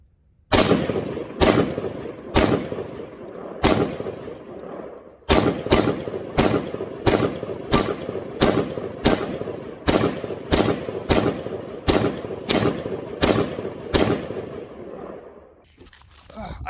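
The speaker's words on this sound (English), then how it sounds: "We're just shooting the plate carrier." Rifle shots slam into a plate carrier fitted with an AR500 steel plate, some seventeen loud sharp cracks with a short gap early on, then a steady rapid string of evenly spaced reports, no talking.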